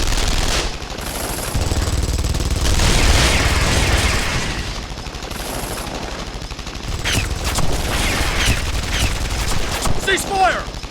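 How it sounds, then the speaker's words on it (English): Soldiers' gunfire in the fighting game Guilty Gear Strive, a loud sustained volley of rapid shots lasting most of the stretch, with booming impacts and a shouting voice mixed in over the clatter. "Open fire!"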